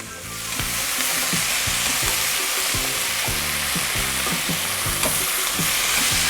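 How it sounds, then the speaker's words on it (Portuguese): Loud, continuous sizzling of vegetables browning in a hot pan for asparagus risotto, with occasional scraping as they are stirred; no talking. "Agora o trabalho é dar uma dourada bem bacana nesses ingredientes"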